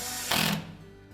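A short, buzzy burst of a power driver spinning a retaining screw into the back panel of a Whirlpool dryer, lasting about a quarter second amid a quiet mechanical hum.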